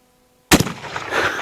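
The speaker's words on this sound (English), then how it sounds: "We're going to have to shoot at the base since we're shooting high." A single loud, close shot from a Bullard lever-action rifle fired at a jug outdoors, a sharp crack with a short echoing tail after a moment of silence.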